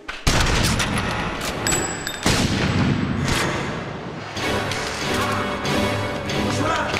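Gunfire in a French police TV drama: several sharp, loud shots and bangs in quick succession, followed by crashing, rumbling action noise.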